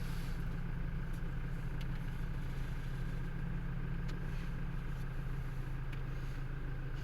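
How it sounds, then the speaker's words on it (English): A car started with a push button idles quietly and steadily, a low even engine hum with no revving. "and release the brake, and our engine has started."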